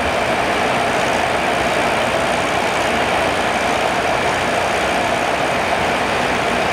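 An aircraft engine in Microsoft Flight Simulator 2020 drones at a steady, even level, a dense continuous hum and whir with no talk over it.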